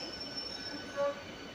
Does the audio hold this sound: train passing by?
yes